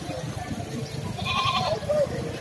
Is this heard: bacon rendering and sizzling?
no